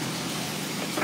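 Steady low rumble of a car interior as the vehicle drives off after a yoga session, a constant muffled road and engine hum with no talking.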